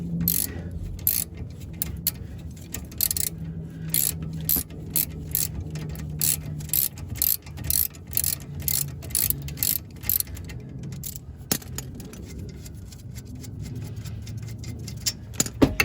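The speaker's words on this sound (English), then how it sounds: "You can just grab that with a 19 millimeter wrench and then take your nut off the rest of the way." A 19 mm wrench ratchets a brake caliper nut off a Honda Fit, giving rapid bursts of close, sharp metallic clicks in uneven runs over a low background hum.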